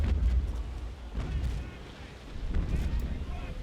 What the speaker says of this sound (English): Grunfworks with his 6-pounder guns.